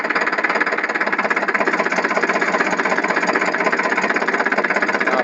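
A tractor engine runs steadily nearby, a loud, even mechanical drone with a fast regular pulse and no voices over it.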